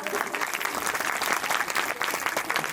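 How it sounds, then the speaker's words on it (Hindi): An audience at a Bhagwat Katha religious gathering claps loudly and continuously, a dense wash of many hands sustained for nearly three seconds with faint voices mixed in. "जरा जोरदार तालियां बजा दिए व्यास जी।"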